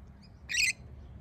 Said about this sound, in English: Today it was a beautiful singing bird.